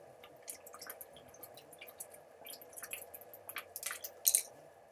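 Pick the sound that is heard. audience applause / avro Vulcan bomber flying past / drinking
drinking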